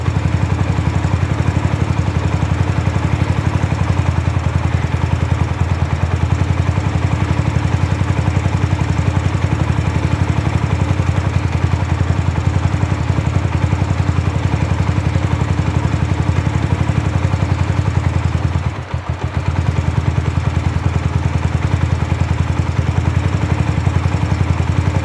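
A Raptor 125 quad engine idles steadily just after a carburetor adjustment, a loud, constant close-up putter with one brief dip in the middle and no talking.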